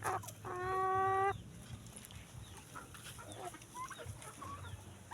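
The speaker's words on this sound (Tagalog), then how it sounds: "Ito yung Black Astral Chicken" A Black Australorp chicken gives a loud, drawn-out call, followed by soft clucks and scattered bird noises close by.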